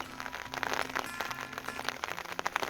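Rain falls outdoors in the early morning, a soft, faint patter of scattered drops landing on surfaces nearby.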